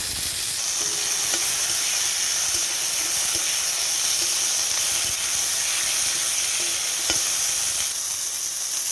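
A tomato fries in hot oil with nigella seeds, dry chili and bay leaf, giving a loud, continuous, close hiss of sizzling that holds steady throughout, with a few faint clicks.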